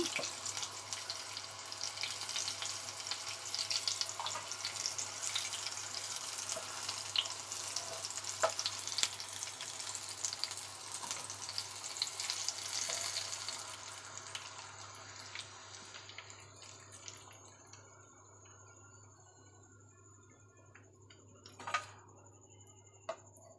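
Bitter gourd slices frying in hot oil make a steady, dense sizzle for about fourteen seconds. The sizzle then thins to quieter crackles, with a brief clatter near the end.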